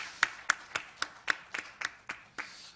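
A church congregation at a New Year's Eve worship service claps slowly in a sparse, steady beat of about ten distinct claps, fairly soft in a quiet room.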